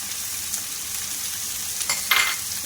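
Ginger garlic paste frying with sliced onions in hot ghee, a steady broadband sizzle with a few louder spoon-stirring scrapes near the end, no voices.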